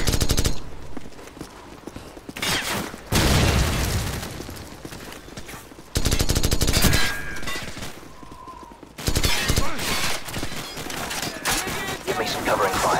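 Bursts of gunfire in Call of Duty 4: Modern Warfare during an assault on a launch facility: loud automatic volleys and scattered shots in several waves, with game voices calling out over the shooting.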